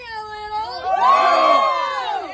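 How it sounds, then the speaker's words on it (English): A group of children at a training camp cheers and whoops together in a loud, sustained shout that swells after a brief quieter start, close and filling the space. "I'm from the ring, let me hear you cheer!"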